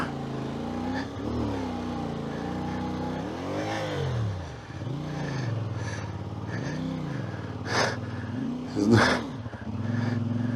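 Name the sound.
CFmoto 450MT motorcycle engine revving off-road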